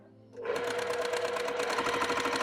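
A sewing machine stitching a quarter-inch seam on a quilt block starts up after a brief quiet moment, then runs in a loud, steady, rapid mechanical chatter close by.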